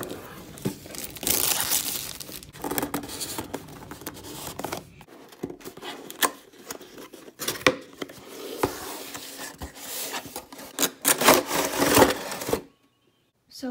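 Cardboard packaging of a wooden DIY music box kit is opened and handled, giving irregular crinkling, tearing and scraping bursts with knocks of wooden pieces, close and fairly loud, ending in a brief silence.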